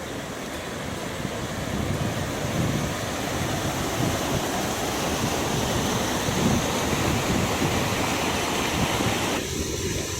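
The flooded Kalubhar river rushes in a steady, broad roar of churning water, with wind buffeting the microphone outdoors in rain and no voices.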